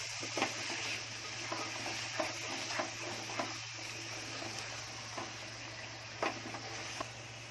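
Soft sizzling of seeds frying with spices in a pan, with intermittent stirring scrapes and light clinks, steady low hum underneath, fairly quiet and close.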